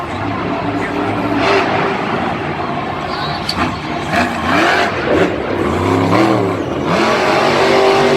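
A Monster Jam monster truck at the start of its run in Minneapolis, the engine loud and close, revving up and down repeatedly over the crowd's roar while an announcer talks over it.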